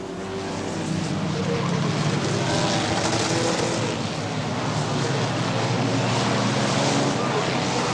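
Banger racing cars roar around the Brafield track in 1980, a continuous loud, dense engine drone with no gaps, heard from close by with crowd noise mixed in.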